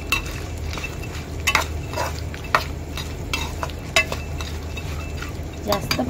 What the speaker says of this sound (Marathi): मी टोप जरा साईडला करून ड्रायफ्रूट आता फ्राय करून घेते